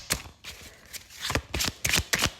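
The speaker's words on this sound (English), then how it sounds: "I think it's affecting the shuffling of these cards" Tarot cards being shuffled by hand, a series of crisp riffling bursts and soft slaps in an uneven rhythm, close and fairly loud with no talking.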